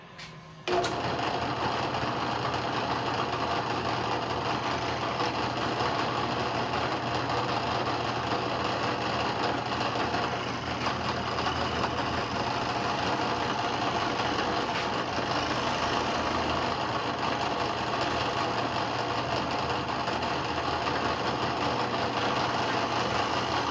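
A guitar neck is shaved down to its contour, a continuous loud machine drone holding steady and close for over twenty seconds after an abrupt start, with a few faint clicks.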